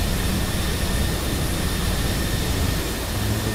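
Steady, loud jet roar of an Airbus airliner engine in cruise within a flight simulator game, an unbroken broadband drone with faint high whine, no voices.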